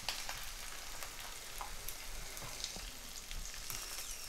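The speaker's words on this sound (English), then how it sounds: "So let me just flip this egg for a minute." An egg frying in a hot pan gives a steady, close crackling sizzle that runs without pause and with no voices.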